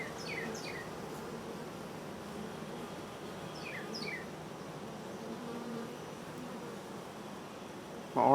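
Honey bees hum continuously inside an open hive, a dense close-up buzz at moderate level with a few higher individual whines drifting past and no talking.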